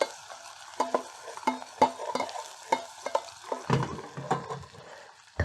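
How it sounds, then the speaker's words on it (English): Ginger and garlic fry in a pan for a tarka dahl with a soft background sizzle, broken by repeated scraping and clinking of a utensil stirring, close and moderately quiet. "And we're going to fry this really quickly, just to let it get aromatic."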